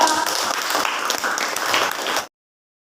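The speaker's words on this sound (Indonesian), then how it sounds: "Tepuk tangan untuk kelompok" Classmates clap for a student group in a school lesson, a dense burst of hand claps lasting about two seconds and then stopping abruptly.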